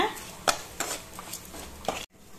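Ground masala paste being sautéed in oil in a cooking pan for a betel-leaf rice dish, heard as sharp spoon clinks and scraping strokes against the metal every half second, fairly quiet, ending abruptly.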